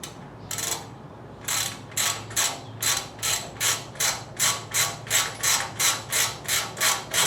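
A socket ratchet turns a nut on a Suzuki GS550 cafe racer motorcycle, making loud, close bursts of rapid clicking in an even back-and-forth rhythm, about sixteen strokes in a row, with no talk.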